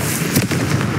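A Confringo blast spell from a Harry Potter-style video game bursts as a short, loud, crackling explosion with a broad hiss and a sharp peak near the middle, sitting over steady game ambience.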